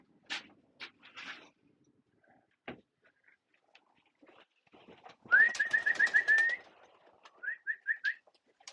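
Racing pigeons in a loft at feeding time give soft coos and whistling calls, with scattered rustles and wing flutters, close by and fairly clear, no talking.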